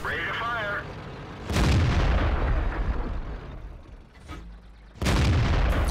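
Tank cannon shots in World of Tanks, a clan war match on the Murovanka map: two loud booming blasts about three and a half seconds apart, each with a long rumbling decay, plus a smaller pop in between.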